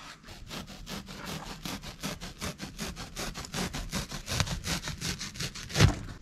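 Foam corners being trimmed, likely by sawing: a fast, steady rhythm of about twenty rasping strokes, close and fairly quiet, ending with a louder scrape.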